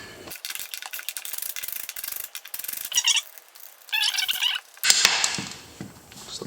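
Ratcheting clicks and metallic clanks from a 17 mm socket on a standard wrench loosening lug nuts on a Suzuki King Quad ATV wheel, in close, irregular bursts with short pauses between.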